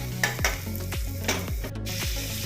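Onions fry in a pan for sabbakki avalakki upma, sizzling steadily while a spoon scrapes and stirs in repeated strokes close by.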